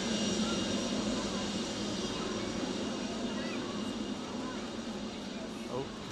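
A passenger jet arriving at Manchester Airport makes a steady, fairly distant engine roar that holds throughout, with low talk and crowd murmur mixed in.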